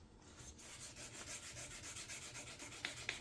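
A faded plastic motorcycle tank is hand-sanded with 320 grit sandpaper, a faint, rhythmic back-and-forth rubbing scratch repeating steadily about three times a second.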